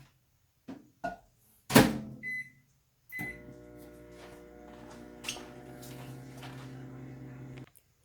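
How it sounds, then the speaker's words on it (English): A microwave oven warming milk runs with a steady hum for several seconds after a few door thunks and button clicks, then stops, close and moderately loud with no talking. "So we're going to put it over here in our microwave."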